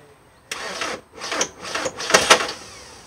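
A 1995 VW T4 Transporter 1.9 TD diesel engine cranking after glow-plug preheating, with brake cleaner sprayed into the intake: several rough bursts of starter and engine noise in quick succession, close and loud, with no talk.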